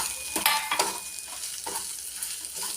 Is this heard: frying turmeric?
yes